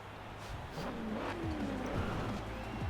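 A turbocharged car in the Forza Horizon 4 racing game drives along with a steady engine roar, rising in pitch as it accelerates and shifts through the gears, plus faint tire noise, continuous and close-up throughout.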